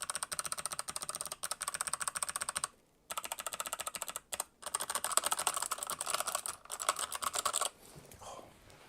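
Clicky Kailh Box White switches on an MSI keyboard, typed close to the mic in fast, steady bursts of sharp clacks with two brief pauses, alone without any voice.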